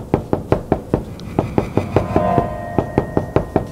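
Sharp, loud knocking on an interior wall between two rooms, a steady series of rapid thuds close by with a brief pause midway, no voices.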